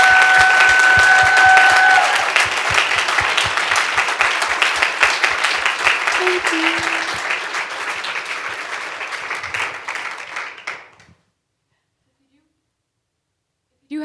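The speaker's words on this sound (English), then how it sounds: "I think we all want to give you a round of applause for all of those." An audience at a talk applauds the speaker, steady loud clapping that gradually thins and fades out over about eleven seconds, followed by near silence.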